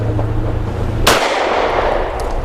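A single sharp, loud report from a SAR USA P8L pistol firing 108 grain hollow point rounds, cutting through steady background noise at an outdoor range.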